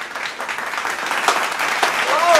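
A studio audience applauds at the opening of a cooking show, a steady wash of clapping that swells slightly and holds for a couple of seconds, fairly close and loud.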